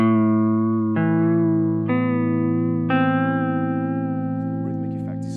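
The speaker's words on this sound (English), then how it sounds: "if we go all the other way with the warp control, the wave is lopsided the other way, so the decay is faster" Guitar notes through a Chase Bliss Audio Warped Vinyl pedal with the warp control turned for a faster-decaying wave, four sustained notes each ringing into the next, with a wavering modulated shimmer building as the last tone fades.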